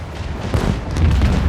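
A deep, rumbling explosion in the video game Warhammer 40,000: Rogue Trader, loud and close, with a booming low-end roll that swells and lingers through the moment, no speech over it.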